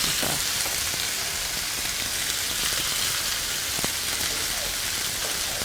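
Olive oil sizzling in a hot pan, a loud, dense, steady hiss with faint crackles throughout, close and unbroken.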